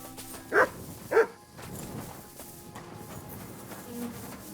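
A dog in the medieval game Kingdom Come Deliverance 2 gives two sharp, close barks about half a second apart, followed by quieter ambient shuffling and footsteps.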